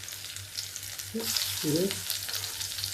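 Snacks shallow-frying in oil in a pan, a continuous bright sizzle with crackling spatters that swells midway, while a voice speaks briefly over it and a low electrical hum runs underneath.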